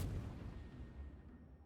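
Distant boom of enemy ship gunfire in World of Warships, a single heavy low blast that rolls away and fades quickly.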